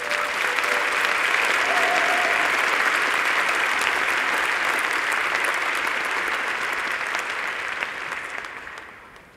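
Graduates of an engineering faculty receive sustained audience applause at a 2022 graduation ceremony, a dense, loud wash of clapping from a large crowd that holds steady and then fades out at the end.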